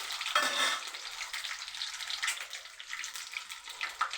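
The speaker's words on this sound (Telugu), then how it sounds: "ఇలా బాగా ఫ్రై చేసుకోవాలి ఫ్రెండ్స్" Eggs frying in hot oil for a spicy masala egg fry, a steady close sizzle with crackling pops throughout and no talking.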